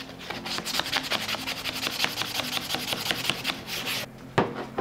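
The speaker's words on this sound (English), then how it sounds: "I'm just gonna take my sandpaper off and do these edges by hand." Sandpaper worked by hand along the edges of a rounded wooden bathroom cabinet, a steady run of quick scratchy back-and-forth rasping strokes, close and continuous with a brief pause near the end.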